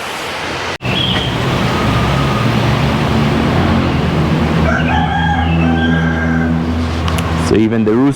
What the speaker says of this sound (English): So even the rooster is awake and calling to start the day.